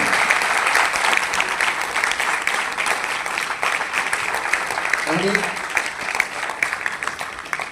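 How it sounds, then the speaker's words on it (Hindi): Sustained applause from an audience at a stage event in Lucknow, a dense, even clatter of many clapping hands that continues throughout, with a voice briefly audible over it. "जो हमारे पीछे खड़े सारे लोग हैं इनके लिए जोरदार ताली"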